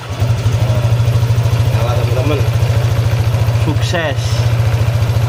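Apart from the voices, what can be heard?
Honda PCX 150 scooter engine starting and idling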